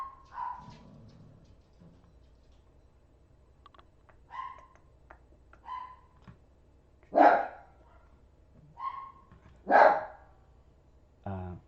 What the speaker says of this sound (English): Now my dogs are going crazy.